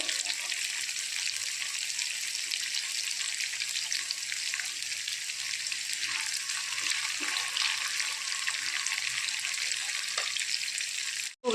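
Whole, uncut onions fry in a pan of hot oil for a Kerala-style ulli puli, giving a steady, dense sizzle that stays loud and even throughout with no one talking, before a brief knock at the very end.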